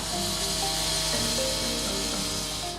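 Small drills and grinders cut into railway track inside Central Station, a steady close rasping and whining with no talk over it.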